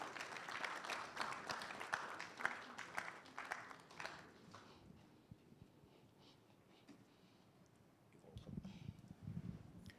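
Applause from a seated audience at an official report launch held by the Ghana Statistical Service, a dense clapping wash for about four seconds that thins out and fades.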